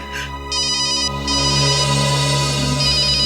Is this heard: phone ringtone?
yes